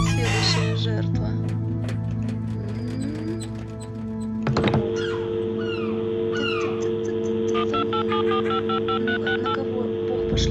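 Touch-tone keypad beeps from a phone booth in the video game The Lost Crown, a run of short dialing tones after a dull thunk, layered over steady droning game ambience with no talking.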